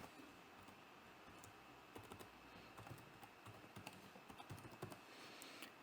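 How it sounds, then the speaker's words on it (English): Rapid clicking of computer keyboard keys as a web address is typed into a Python script, with irregular close taps and short bursts over a quiet room. "So I'm just typing youtube.com just to show you."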